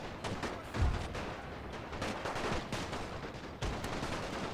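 Cannon and machine gun fire in a World War I strategy game set in Serbia: a continuous crackle of distant shots, punctuated by a few heavier thumping blasts.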